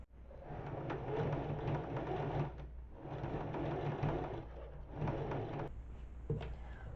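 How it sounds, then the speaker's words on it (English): Sewing machine top-stitching fabric makeup remover squares, running in steady whirring bursts with short pauses between passes, fairly close and clear, no speech. "now I'm gonna top stitch them because I just like the way it looks when things are top stitched"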